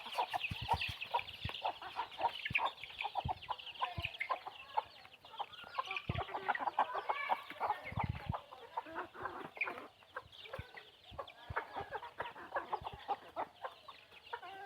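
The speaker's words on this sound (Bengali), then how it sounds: "এই যে মুরগিগুলো এখন খাবার খাইতেছে" Chickens cluck and chatter continuously in a busy flock, with scattered pecking and rustling sounds close by.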